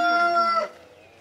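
A rooster crows once, loud and close, a single held call that cuts off and leaves a quiet tail, on a farm kept with hens.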